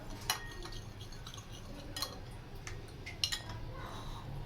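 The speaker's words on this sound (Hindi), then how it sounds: "इसको अच्छी तरह मिक्स कर लेंगे।" A spoon clinks against a bowl while a homemade sauce of ketchup and vinegar for vegetable Manchurian is mixed, giving a few sharp metallic taps over a steady low background.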